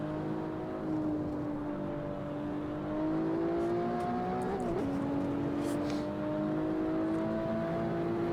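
A Mazda MX-5 race car with a 900-horsepower engine runs around the Lime Rock circuit, its engine droning steadily at part throttle, then rising in pitch briefly with a quick gear change, heard from inside the cabin.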